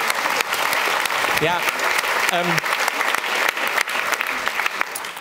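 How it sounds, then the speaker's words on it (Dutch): A warm round of applause from an audience at a Dutch book talk, dense continuous clapping with a few voices calling out briefly within it. "Geef een warm applaus."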